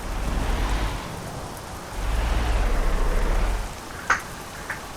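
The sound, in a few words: rain in Euro Truck Simulator 2 video game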